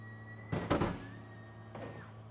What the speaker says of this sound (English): Okay, gear's coming up. Lever's up.